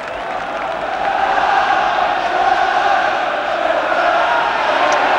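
A stadium crowd at a West Ham United v Aston Villa FA Cup football match gives off a dense, steady roar, loud and continuous, with swelling cheers rising above the general din.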